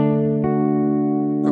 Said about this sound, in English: So you get the bridge pickup and the middle pickup, and it sounds something like this.